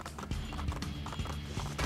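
Horse hooves clip-clop in quick, close beats in Assassin's Creed 2, with game noise around them.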